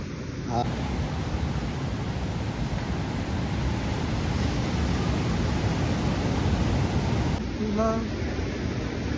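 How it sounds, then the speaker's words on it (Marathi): Rough monsoon sea near Guhagar churns and surges as a continuous, broad roar of breaking waves, heavy and close, with wind buffeting the microphone throughout. "सुंदर समुद्र, एकदम कडक खवळलेला समुद्र"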